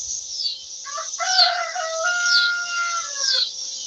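A rooster crows loudly and close by among chickens, one long drawn-out call over a background of high chirping birds.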